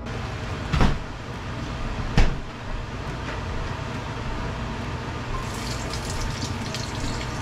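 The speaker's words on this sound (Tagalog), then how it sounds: "I-dishwash ko muna." Dishes being washed at a kitchen sink under a steady stream of tap water, with two sharp knocks of dishware or a cupboard early on and a continuous close wash of running water throughout.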